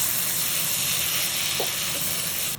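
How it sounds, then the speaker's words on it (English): Diced tomatoes sauté in a pan of masala for shrimp biryani, giving a steady, close hiss and sizzle that runs unbroken throughout, with a couple of faint stirring taps midway. "add 2 large diced tomatoes and keep sautéing until they turn soft and start breaking down into the masala"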